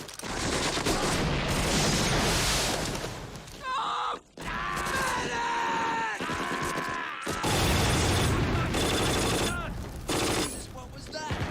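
Dense war-drama battle gunfire from a TV series, sustained machine-gun bursts and shots with crashes, loud and nearly continuous, with brief gaps and occasional voices mixed in.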